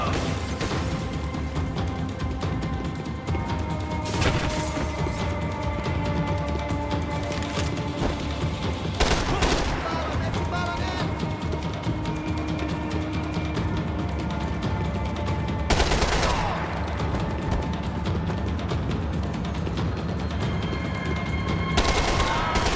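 Heavy gunfire in Max Payne 3, with loud shotgun blasts bursting out at intervals over a steady wash of game noise and action, close and dense throughout.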